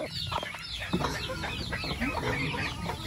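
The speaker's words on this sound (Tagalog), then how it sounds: "So meron sila dito mga manok." Chickens clucking beside a bahay kubo hut at a rural farm in Sorsogon, a busy overlapping chorus of close, fairly loud clucks and squawks over outdoor noise.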